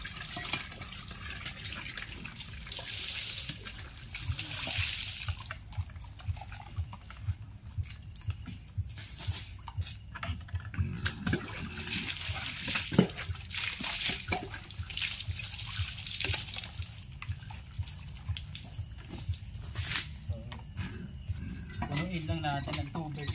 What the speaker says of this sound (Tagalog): punuin lang natin ng tubig itong painuman ng manok